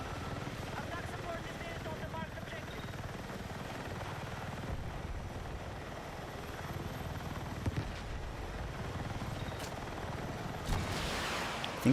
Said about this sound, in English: This is the good helicopter.